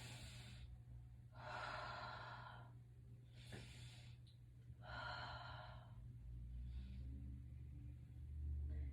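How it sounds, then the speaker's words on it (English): Slow, deep breathing during a yoga hamstring stretch: long inhales through the nose and exhales out through the mouth, several rhythmic breaths close to the mic over a low steady rumble. "So inhale deeply in through your nose, exhale out through your mouth"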